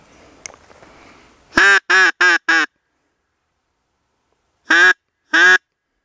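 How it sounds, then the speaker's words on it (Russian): A bird calling in flight outdoors: a quick burst of four loud, nasal, duck-like quacks, a pause, then two more calls, close and clear against near silence. "Какая-то птичка летит."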